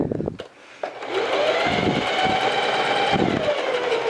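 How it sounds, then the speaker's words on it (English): A sewing machine runs a straight bodice seam, stitching about a quarter inch from the fabric edge. The motor's steady whine starts after a brief voice and runs on without pause. "I'll walk those first few stitches and then go ahead and just sew this"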